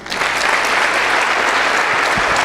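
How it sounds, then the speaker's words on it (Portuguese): A church congregation applauds during a worship service, a dense, loud wash of many hands clapping steadily throughout. "Aplauda ao Senhor"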